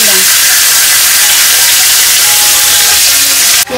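Dried red chilies, cumin seeds and bay leaf sizzling in hot oil: a loud, steady, close hiss filling the whole stretch, with a brief dip at the very end.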